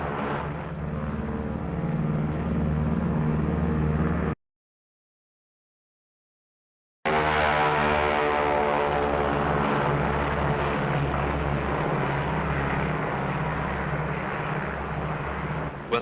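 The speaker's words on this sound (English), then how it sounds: "B-29 Dave's Dream bomb-carrying aircraft." A B-29 bomber named Dave's Dream drones steadily in flight, its propeller engines producing a broad, continuous low roar with a brief gap of silence midway before the heavy rumble resumes.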